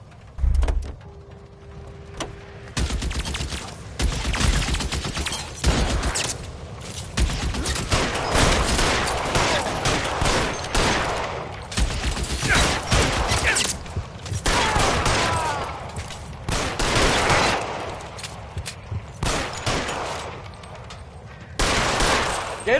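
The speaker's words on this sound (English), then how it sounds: "Open fire!" Gunfire in the video game LA Noire on PS4: sustained, dense volleys of rapid shots from several weapons, loud and continuous after a brief quieter opening, with sharp bursts overlapping throughout.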